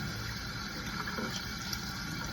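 Running water pours steadily over salmon being rinsed for a smoked-salmon brine, a continuous even gush close by with no speech.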